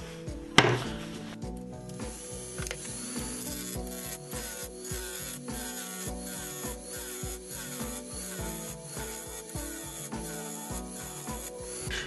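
Roughing gouge turning down the edges of a wooden disc on a lathe, a steady rasping, rubbing scrape that runs continuously near and loud, with no talk.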